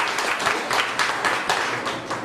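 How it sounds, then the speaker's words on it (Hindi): Audience in a seminar hall applauding themselves: dense, sustained crowd clapping with slight surges throughout, loud and close, no voices over it. "आप सब अपने लिए जोरदार तालियां बजा"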